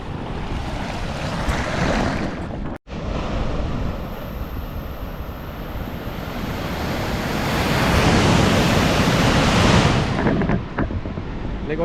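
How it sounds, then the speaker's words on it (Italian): Sea surf breaks and washes back on the shore near the mouth of the Sele river, a loud, continuous roar with swelling surges, wind buffeting the microphone and one brief dropout. "c'è anche ancora un po' di risacca"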